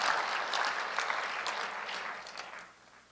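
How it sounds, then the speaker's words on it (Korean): Audience clapping during a church sermon in Korea, a dense steady round of applause that gradually fades out over about three seconds. "박수를 가끔씩 치세요. 아무 때나 치지 마시고. 또 치시네."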